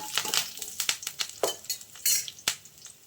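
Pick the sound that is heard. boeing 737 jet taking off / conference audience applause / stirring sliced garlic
stirring sliced garlic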